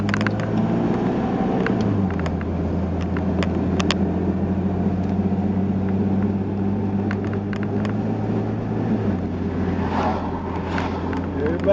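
A car drives through street traffic, its steady low engine hum dropping in pitch around the two-second mark and again near nine seconds as gears shift, with a continuous rumble throughout and faint higher mechanical noises on top.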